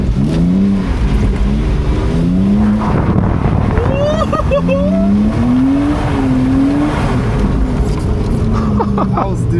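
A BMW E46 drifts on a wet street in the rain, its engine revving and wavering through the slides with a rough, loud roar, while voices talk excitedly over it throughout.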